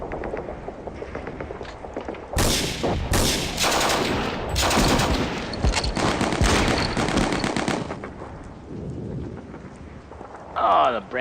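Bren light machine guns fire in the World War II tactical wargame Steel Panthers: World at War, producing loud, rolling bursts of automatic fire over several seconds that are rough and broad and sound close to thunder.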